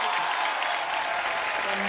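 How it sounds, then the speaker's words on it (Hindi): Loud, dense studio audience applause at a TV comedy show, a continuous roar of many hands clapping close by for a couple of seconds. "जोरदार तालियां रितेश भाई के लिए"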